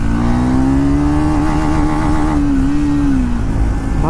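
Motorbike engine pulling hard in second gear, a loud close rising drone that climbs steadily in pitch and then eases off near the end, heard from the rider's position with no talk over it.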